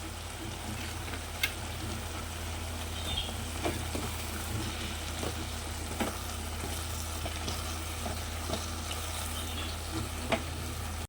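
Tomato, onion and ginger sautéing with herbs in oil for a Kerala-style chicken biryani, a soft steady sizzle with occasional stirring clicks and scrapes, no voices.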